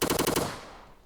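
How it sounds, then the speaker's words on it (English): Rapid automatic bursts from an assault rifle in the video game Rivals, about five loud, close shots in a quick rhythm, then a fading reverberant tail with no talking. "Here is the assault rifle."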